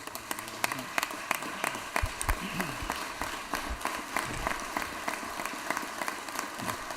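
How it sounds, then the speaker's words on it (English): Applause for a state senator in a legislative chamber, scattered sharp claps over a murmuring room with some voices underneath, continuing steadily throughout. "let's give Senator Beach a big round of applause here"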